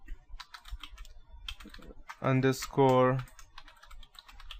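Rapid keystrokes on a computer keyboard entering a command in a Kali Linux terminal, clicking in quick uneven bursts at close range, broken midway by a short stretch of talking.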